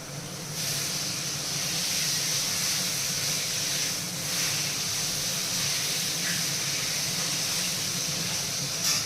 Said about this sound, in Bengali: মাছটা এখন ভাজা করছি ভালো করে